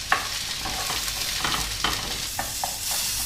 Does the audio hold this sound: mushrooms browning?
yes